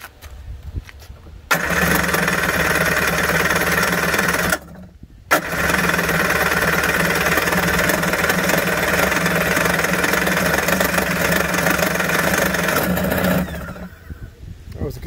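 A 1991 Kawasaki 550SX jet ski engine, first start in six years, cranks and catches, then runs steadily loud and buzzy for several seconds, cuts out briefly, restarts and keeps idling roughly before dying away near the end.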